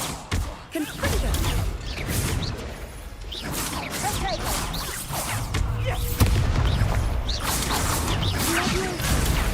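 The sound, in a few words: Confringo blasting spell cast in Hogwarts Legacy video game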